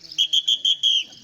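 A voice imitating a bus conductor's whistle: five short, shrill, close-up pulses in a quick, even rhythm, heard alone.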